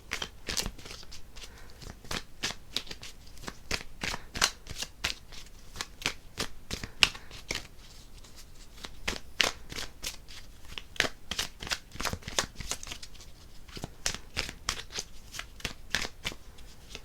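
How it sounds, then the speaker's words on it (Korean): Tarot cards are shuffled by hand in a long run of quick, crisp riffling flicks, close and continuous with no talking. "그래서 제가 추가 카드를 한번 뽑아볼게요"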